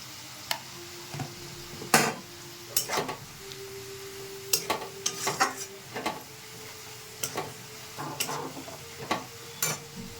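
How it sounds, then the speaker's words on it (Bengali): Chopped onions frying in a pan with turmeric being added for an egg, potato and capsicum curry, with a steady sizzle under repeated clinks and scrapes of a stirring spoon against the pan. "পেঁয়াজটা ভেজে নিয়েছি, এবার পরিমাণ মতো হলুদ দিয়ে দিচ্ছি।"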